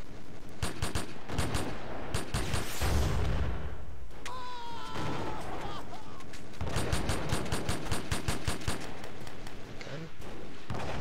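Bursts of rapid gunfire and heavy booming shots in the military shooter Joint Operations: Typhoon Rising, loud and dense, with a brief lull midway filled by faint whistling, then more sustained automatic fire.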